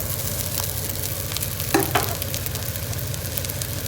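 Cut idiyappam (noolappam) goes into a hot pan and gets stirred: a continuous sizzle with a low rhythmic rumble and a couple of sharp clinks near the middle; no voices.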